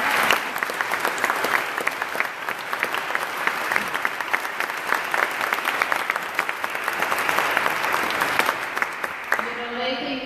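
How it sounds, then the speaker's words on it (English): Sustained audience applause after a night of live music at a collaborative music festival, dense and steady clapping from a crowd filling the whole stretch before tapering off at the very end. "Can we give them another round of applause?"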